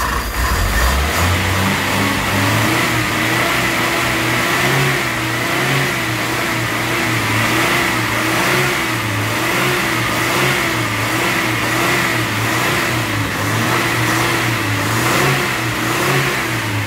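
A cold Toyota 4K engine running rough after nearly three years unused, close and loud, with an uneven idle that rises and falls in pitch, wavering revs throughout.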